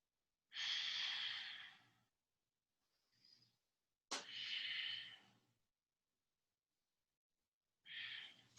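Slow, deep breathing during yoga practice, three long airy breaths separated by several seconds of silence, close and soft, with a brief sharp intake and no speech.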